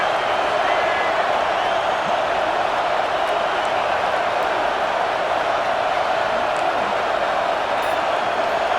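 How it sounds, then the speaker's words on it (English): A stadium crowd at a football game fills the air with a dense, continuous roar of voices and cheering, steady and loud throughout. "Listen to the crowd energy here in the early going."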